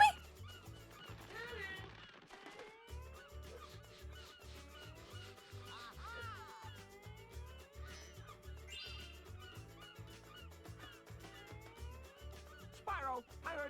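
Constant bird calls in the video game Spyro: Enter the Dragonfly, a busy stream of chirps and honk-like cries layered over game music with a steady beat, running without a break.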